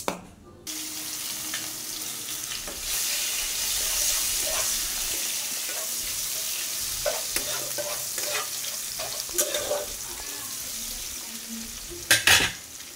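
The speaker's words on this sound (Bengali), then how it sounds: "এবার ফোড়ন দেওয়ার পালা।" Whole spices tempering in hot oil in a pan over fried potatoes, a steady bright sizzle running throughout with occasional stirring clatters and a louder burst of crackle near the end.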